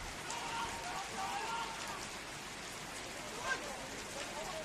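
Steady rain hisses across an outdoor football pitch at George Andrews during a night-time NPL Victoria match between Dandenong Thunder and Green Gully, a constant wash of drops with faint distant crowd or commentary sounds underneath.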